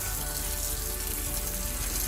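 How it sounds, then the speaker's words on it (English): Tap water runs steadily into a big bowl in a kitchen sink, a constant loud splashing rush with no pauses. "I have a nice big bowl that I'm going to fill with water and keep it ready for our chicken"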